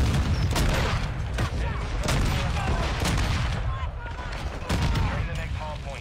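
Rapid rifle gunfire and explosions in a multiplayer shooter game with an SPR rifle, a dense, loud barrage of cracking shots and booms over a constant battle din, with voices talking throughout.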